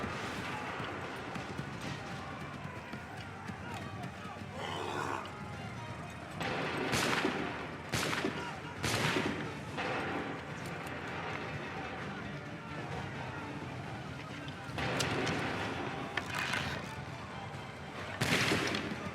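Musket volleys crack out in bursts during an Assassin's Creed III battle at Lexington and Concord: several loud, sharp salvos spaced irregularly over a continuous din of combat and commotion, with occasional talk.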